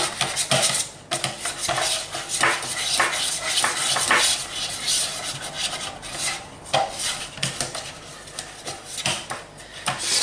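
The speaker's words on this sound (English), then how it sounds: "So I've got some margarine here, which I'm going to rub all over." Margarine rubbed over a non-stick cake tin to grease it for a Victoria sponge, heard as a continuous close rasping, scraping rub with irregular bursts of friction and brief clinks against the metal, no voices.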